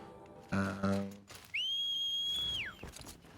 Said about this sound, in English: the whistling is really loud for some reason